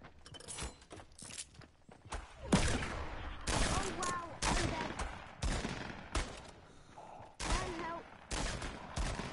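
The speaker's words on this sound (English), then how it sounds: "little submachine gun." Submachine gun fire in a video game comes in repeated bursts of rapid shots, loud and close, broken by short gaps, with a voice talking in between and over parts of it.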